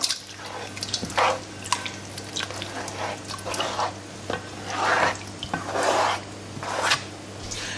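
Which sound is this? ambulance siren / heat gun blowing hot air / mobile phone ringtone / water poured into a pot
water poured into a pot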